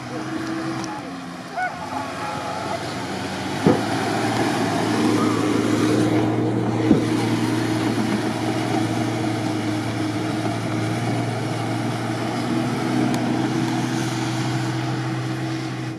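A steady low drone from a 4-litre six-cylinder car engine on sand hills runs throughout at an even, moderate level, with a couple of sharp knocks partway through.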